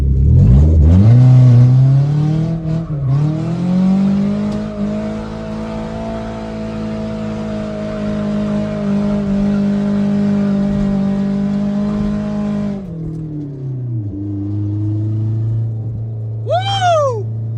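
A truck's swapped FE3 engine revs hard and holds high while drifting, then drops off sharply near the end, followed by a brief tire squeal; no talking.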